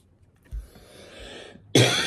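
A person coughs, with a soft throat sound early on followed by a loud, sharp cough burst near the end, close to the microphone.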